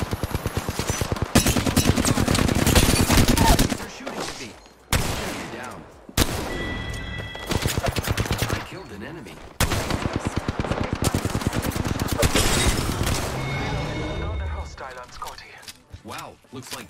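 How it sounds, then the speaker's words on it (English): Rapid automatic gunfire from enemies in the shooter game Apex Legends on Kings Canyon, loud bursts of shots in several volleys with brief pauses between them, mixed with game sound effects and occasional voice lines. "The enemies are shooting at me."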